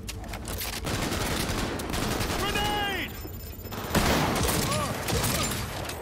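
Gunfire from a powerful one-shot gun in the video game Cyberpunk 2077, loud bursts of shots over a dense game soundscape with music and effects throughout.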